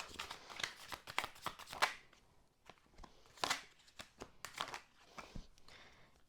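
Tarot cards being shuffled by hand, quick riffling bursts and soft slaps in irregular clusters, close and fairly quiet, with no speech.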